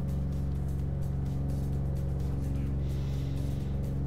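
Car engine idling in Car Mechanic Simulator 2014, a steady droning hum with a low pulsing rhythm that stays constant and fairly loud with no talk over it.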